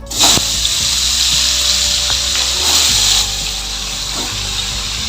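Green tomatoes tossed with salt and turmeric hiss and sizzle loudly as they hit hot oil, a bright continuous crackle after a sharp start, close up with faint pops and no talk.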